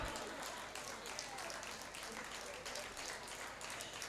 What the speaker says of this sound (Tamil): நல்லா ஒரு கைத்தட்டலாம்